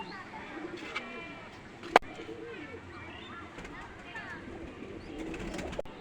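Pakistani Teddy pigeons coo softly in a loft, their low murmuring calls repeating under a man's speech, with a sharp click midway.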